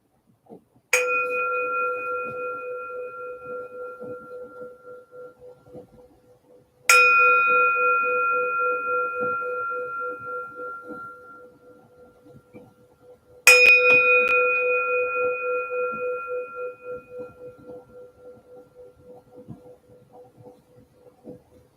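A meditation bell is struck three times at slow, even intervals, each strike ringing out clearly with a bright tone and a long, steady decay into near silence, with no talking.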